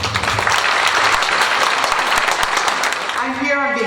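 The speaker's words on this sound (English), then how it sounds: "Round of applause for her." Audience applause at a retirement luncheon as a U.S. Attorney is invited up, a dense burst of clapping from a room of people that fades out near the end as a voice begins.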